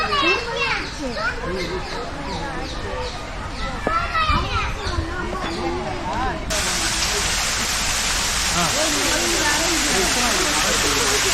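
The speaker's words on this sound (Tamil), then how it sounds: "நம்ம ஃபால்ஸுக்கு வந்திருக்கோம்." An artificial waterfall at Yelagiri gives a steady, loud rushing roar that takes over midway, after a stretch of children's chatter and shouts with the water already faintly audible beneath.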